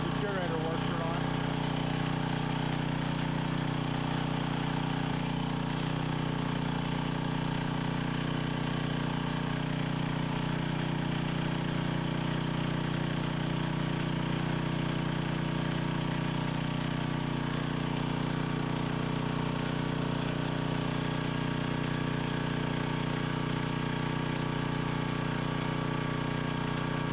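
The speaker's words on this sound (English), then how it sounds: "Well, I'd say it runs. And I'd say the generator works." An old generator engine that sat unused for over ten years runs at a steady, droning idle throughout, loud and constant, with a voice talking faintly over it.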